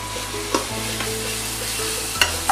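Prawn biryani masala fries in a pan on an induction cooktop while it is stirred, with a steady sizzle broken by a few sharp utensil clinks and scrapes against the pan.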